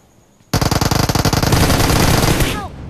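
Rapid automatic gunfire in a mobile shooter game played on an iQOO Neo 7 Pro: after a short quiet lead-in, a loud sustained burst of close shots that blurs into a dense roar before cutting off.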